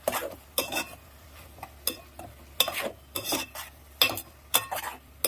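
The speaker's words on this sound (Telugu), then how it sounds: "ఇప్పుడు ఏంటంటే మొత్తం కలిపేసుకున్నాం" Broad bean and tomato curry stirred in a pan, a spoon scraping and clinking in repeated bursts over a soft sizzle, close and fairly loud with no talking.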